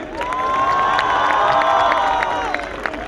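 An audience at a youth closing ceremony cheers and applauds steadily for a few seconds, a dense wash of clapping and shouting voices at moderate volume, tapering slightly at the end.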